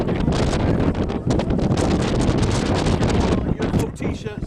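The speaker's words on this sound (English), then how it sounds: "it's too windy here" Strong gusting wind battering the microphone outdoors at night, loud broadband roar that swells and dips continuously with no other sound standing out.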